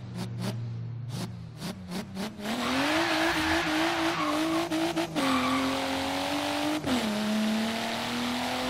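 Twin-turbo BMW M4 launching in Forza Horizon 3, engine revving hard with a rising drone, brief tire squeal and sharp gear-shift breaks, loud and close with no talking.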